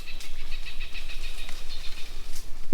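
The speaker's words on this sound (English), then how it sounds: "Listen to those birds, isn't that beautiful?" Birds chirp and sing outdoors in a quiet farm setting where goats graze, with repeated bright tweets and short calls over soft background hiss and no voices.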